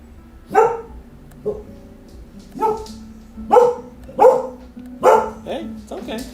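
A female dog barks repeatedly at home, about seven loud, close barks in an uneven rhythm, each short and sharp, with a low background hum between them.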